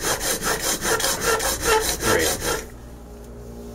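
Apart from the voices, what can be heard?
sharpening a steel scraper plane blade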